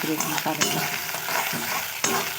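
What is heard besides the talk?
frying in a kadai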